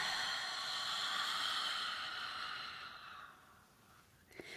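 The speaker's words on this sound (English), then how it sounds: "see how long that exhalation was?" A long, slow breath exhaled during a meditation exercise, a soft airy rush that gradually fades out over several seconds, heard close and alone.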